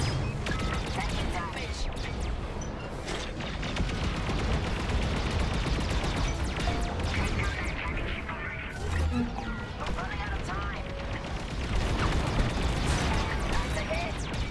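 Starfighter weapons fire in Star Wars: Squadrons, a dense, continuous barrage of blasts and crashes mixed with game music and effects, with talk over the top.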